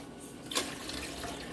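Tap water running steadily into a sink while making a layered latte, a soft continuous rush with a brief louder splash near the start.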